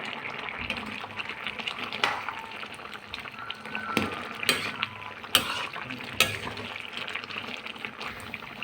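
Spices and crushed ginger-garlic paste frying in a pan, with a continuous sizzle and scattered sharp scrapes and clinks of a spoon stirring against the metal.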